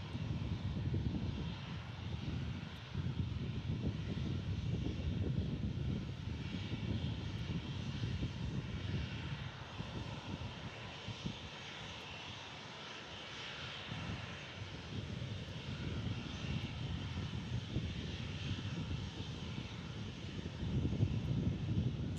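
An airliner takes off from DFW International Airport, its jet engines producing a loud, steady roar that fills the whole stretch with light wind buffeting and no break in the noise.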